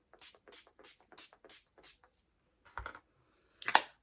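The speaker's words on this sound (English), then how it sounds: "I'm just going to have a nice spritz all over with my Urban Decay All Nighter spray." A quick series of short, hissing bursts of Urban Decay All Nighter makeup setting spray in a steady rhythm, then a pause and two more spritzes, close and fairly quiet.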